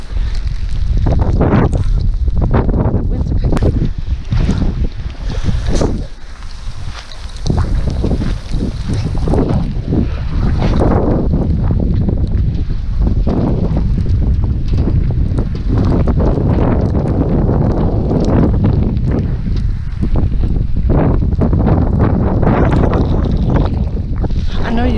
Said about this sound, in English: I know you could hear that wind. That wind ain't no joke.